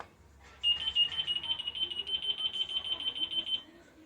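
A SNAP INVENT key finder tag tracker emits a steady high-pitched electronic beeping that starts suddenly, runs for about three seconds, then stops, sounding close and clear over faint background noise.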